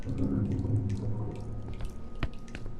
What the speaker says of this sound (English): Pipes are leaking everywhere and it's almost eaten through the rust.